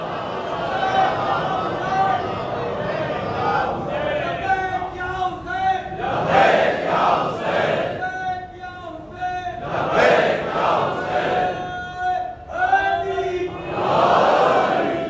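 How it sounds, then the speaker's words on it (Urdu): A crowd at a religious gathering recites salawat in unison, loud rhythmic chanting bursts rising and falling in waves, with voices and hubbub between the phrases. "صلوات پڑھیں محمد و آل محمد"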